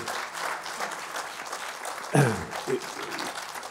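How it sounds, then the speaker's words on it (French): Audience applause at a talk, a dense wash of clapping across the whole stretch with a brief louder burst near the end, fairly near and steady. "on peut les applaudir parce que c'est beaucoup de temps donné"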